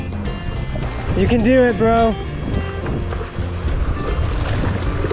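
Rushing whitewater rapids on a river in Mindanao, Philippines, heard from a paddler's boat as a loud, continuous wash of water, with excited voices calling out over it.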